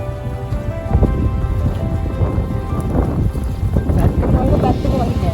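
Rain falls steadily at an outdoor lakeside spot, a dense close hiss and patter of drops that runs throughout with no pause.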